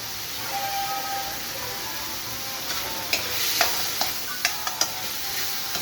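Pork and mushrooms being stirred in a sizzling pan, a steady frying hiss with several sharp spoon clacks against the pan toward the end.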